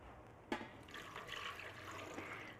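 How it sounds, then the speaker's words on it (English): Water pouring into a blender jar holding chopped red cabbage, a short splash followed by a steady soft trickle, close and quiet. "So I'm going to put a little bit of water in."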